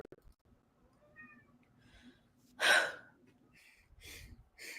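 A single cat meow stands out midway, fairly close, followed by a few softer short sounds against a quiet background.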